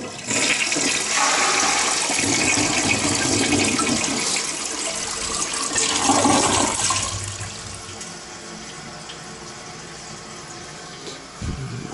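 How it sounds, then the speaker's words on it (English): A hotel toilet at the Hilton Americas in downtown Houston flushes with a loud rushing roar of water close by, then tapers into a quieter refill hiss and trickle. "we can flush it for you guys"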